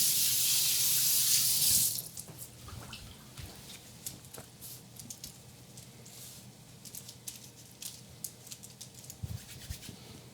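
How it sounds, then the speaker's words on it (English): Tap water runs strongly into a sink for about two seconds and then stops, followed by quieter wet patters, drips and handling noises at close range in a kitchen while making gluten-free bagels. "I'm wetting my hands again"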